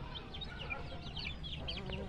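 Chickens, including a black silkie hen, cluck and chirp on a small farm, several short bird calls close by over low background noise.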